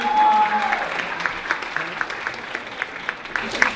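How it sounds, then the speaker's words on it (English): Concert audience applauding partners at a Florence Price birthday tribute concert: a sustained wash of many hands clapping, moderately loud, with a brief tone at the start. "Give them a round of applause."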